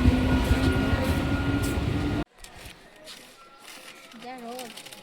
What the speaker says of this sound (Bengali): আমরা উঠলাম আর ট্রেনও ঢুকলো